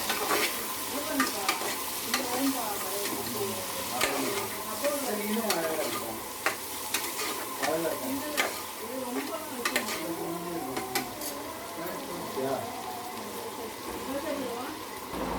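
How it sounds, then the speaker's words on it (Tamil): Chopped tomatoes sautéing in a pan for white kurma: a soft, steady sizzle with frequent stirring scrapes and clicks of the utensil, fairly quiet, while a voice talks over it. "தக்காளியை வெட்டி போட்டு நல்லா வதங்கின உடனே"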